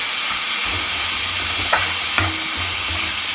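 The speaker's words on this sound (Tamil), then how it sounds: "இந்த கொத்தமல்லியோட இன்னும் ஒரு 2 நிமிஷம் வந்து இது வறுபடட்டும்" Prawn thokku fries and sizzles in a pan with coriander added, a steady loud hiss with occasional scrapes and stirring knocks throughout, no voices.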